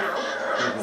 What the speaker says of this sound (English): Huh. Crows.